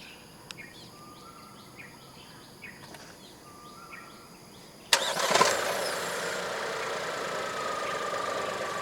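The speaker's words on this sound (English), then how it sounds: "The X50 comes as standard with a remote engine start system." A 2021 Proton X50 with the 1.5 TGDi engine starts by remote start: a quiet stretch with faint clicks and chimes, then a sudden crank and catch that settles into a steady idle.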